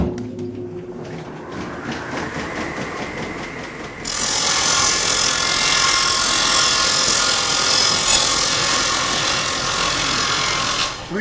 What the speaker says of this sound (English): When you want to bring the blade out for your cutting, you just crank it up to the desired height.